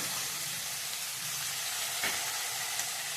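Soaked peanuts and vegetables roast in hot oil with a steady, bright sizzle that holds close and even throughout, with no talking.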